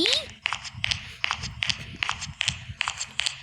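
Footsteps in a Roblox escape obby set in a siren cop's prison, steady rhythmic steps about every half second, moderately loud and crisp over a low background rumble.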